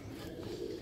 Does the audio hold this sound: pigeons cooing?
yes